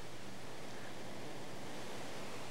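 A video game waterfall gives off a continuous, even hiss of rushing water, broadband and unchanging, with no voices over it.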